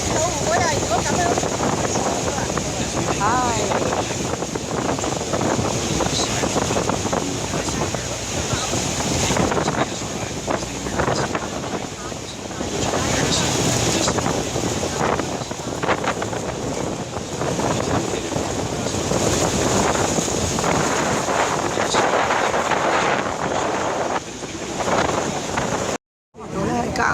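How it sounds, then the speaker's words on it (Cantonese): Niagara Falls roars up close from a crowded tour boat, a loud unbroken rush of water and spray mixed with heavy wind buffeting the microphone, with people talking underneath for the whole stretch. "近距離睇尼加拉瓜大瀑布"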